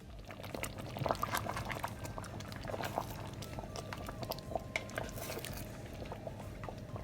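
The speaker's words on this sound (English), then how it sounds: "Yes, let it bubble." Appleton rum BBQ sauce with pig tails bubbling in a pot, a quiet steady simmering with soft pops and occasional clinks, close by and mostly alone.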